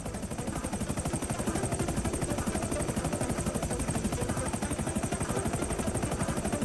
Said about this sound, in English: Okay, you've got the chopper.